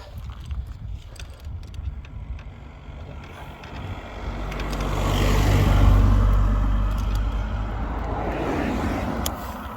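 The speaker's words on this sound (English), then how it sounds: "Let this car past." A car approaches a cyclist from behind on a road between Glen Doll and Glen Clova, Scotland, passing close by, its engine rumble swelling to a peak midway and then easing off, with wind noise throughout.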